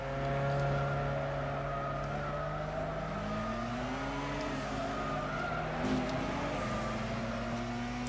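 A McLaren F1 in the racing game Gran Turismo 6 drives with a steady engine drone whose pitch climbs through gear changes, with brief tire squeal near the end and nearby car noise.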